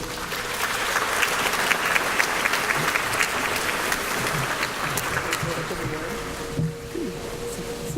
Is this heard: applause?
yes